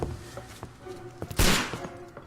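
Gunfire in the Sherlock Holmes: Crimes and Punishment video game, with one loud, close, blasting shot in the middle, surrounded by softer clicks and thuds.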